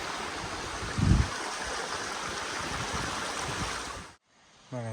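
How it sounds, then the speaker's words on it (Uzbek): A small waterfall in snowy mountains at Chimyon, a steady broadband rush of falling water close by that cuts off abruptly near the end, followed by a brief tonal sound. "Bu yerda yana kichkinagina sharsharasi bor."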